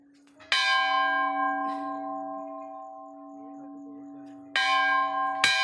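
A temple bell at a hilltop Maa temple in Himachal is struck three times, close and loud, once near the start and twice near the end, each strike leaving a long, bright, shimmering ring that slowly fades between blows.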